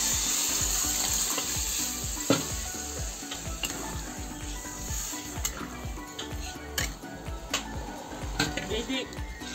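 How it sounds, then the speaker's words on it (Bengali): Cooked dal poured into a pan of fried tomato masala for sambar, giving a steady loud sizzle and bubbling with occasional stirring clinks of a utensil against the pan. "ডালটা টেনে দেবো।"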